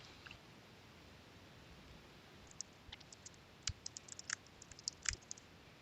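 Sparse, faint clicks of a computer mouse while confirming a Windows domain-join dialog, a few isolated taps at first and then a quicker cluster near the end, set against a quiet background hiss.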